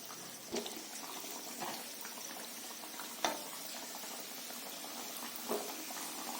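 Filled cheese corn basket frying upside down in hot oil, a steady dense bubbling hiss with a few brief louder pops, close and continuous with no voices.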